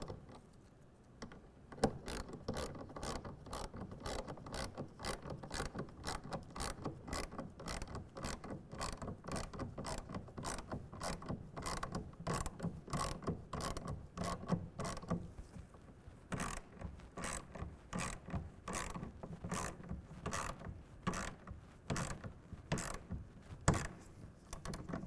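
A 1/2 inch ratchet tightens a clamp on a hard folding truck tonneau cover, giving a long, steady run of rapid, even clicks close up for about twenty-five seconds with brief pauses between strokes.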